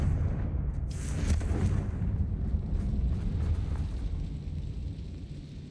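Confringo fire spell blast in Hogwarts Legacy, a loud booming burst with a sharp crackle followed by a long rumbling roar that slowly fades.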